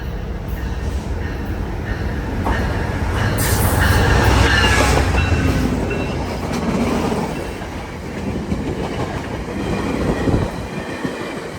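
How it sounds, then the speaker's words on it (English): An eastbound Via Rail passenger train heading to Toronto rushes past at high speed, a loud broadband roar that swells to a peak midway and then fades, with wheel clatter underneath. "train I caught is an eastbound Via heading to Toronto at its high speed."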